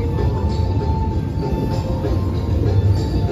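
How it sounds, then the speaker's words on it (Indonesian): Argo Dwi Pangga passenger train rolling into Gambir station in Jakarta, heard from on board as a loud, steady low rumble of wheels and carriage noise with a constant tonal hum. "Argo Dwi Pangga ini masuk Gambirnya"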